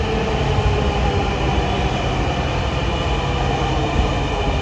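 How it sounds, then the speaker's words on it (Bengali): A Dhaka metro rail train pulls into a station with a steady, loud rolling rumble and broadband rail noise filling the whole span, no voices heard. "এই তো এসে পড়েছে ট্রেন।"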